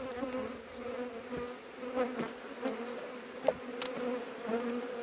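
Honeybees hum in a steady, soft drone at an open hive during frame inspection, with occasional louder buzzes as individual bees pass close.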